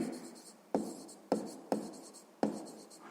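Pen or marker writing a maths formula by hand on a surface, heard as a rhythmic series of five scratchy strokes, each starting with a sharp tap and trailing off, close and clear with no talking.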